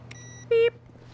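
A single short electronic beep from The Stanley Parable video game, clean and tonal, lasting about a fifth of a second, standing clearly above a low steady background hum.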